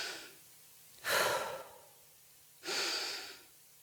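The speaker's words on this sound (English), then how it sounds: "I take deep breaths in and out and see if I can try to calm myself." Two slow, deep breaths drawn in and let out close to the microphone, each a soft airy rush in an otherwise quiet room.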